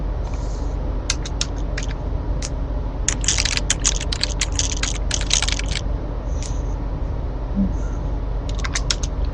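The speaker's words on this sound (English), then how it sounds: "Typing is really loud" Close, loud clattering of computer keyboard keys in irregular bursts, with rapid runs of keystrokes and short pauses between them over a low background hum.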